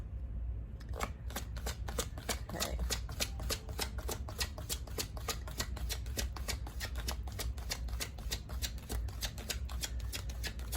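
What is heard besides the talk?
shuffling tarot cards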